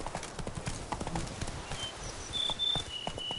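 Roach, the horse, trots in a video game: a quick, even clip-clop of hooves, moderately close, runs through the whole moment, with a few faint high tones above it.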